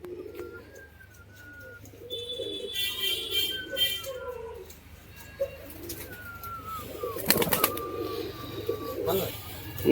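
Pigeons coo in a loft, their low soft calls repeating in several bouts near and moderately loud, with a few faint chirps, scattered clatters and a short burst of noise late on.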